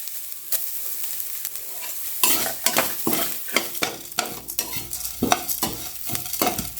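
A handful of grated coconut is stirred in a hot frying pan with a utensil, giving repeated scraping strokes over a constant sizzle. The sizzle turns louder and busier partway through, and no voices are heard.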